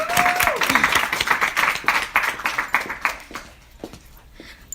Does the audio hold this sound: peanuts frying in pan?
no